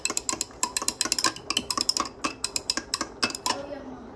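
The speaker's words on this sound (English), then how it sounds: "Okay, we're gonna give it a good little stir." A metal spoon stirs a turmeric home remedy drink in a cup, clinking rapidly and unevenly against the sides in a steady run of close, bright taps that thin out toward the end.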